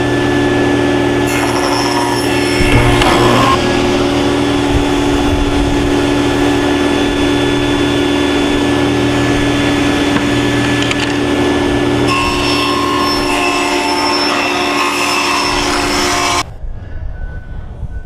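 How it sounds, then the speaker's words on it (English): A power saw rips wood strips for small boxes, running steady and loud for about sixteen seconds with a rising whine as it bites into the stock, then stopping abruptly into a quiet workshop. "I'm going to run it through at 2 inches, and I'm going to cut 2 more out of this at 2 inches"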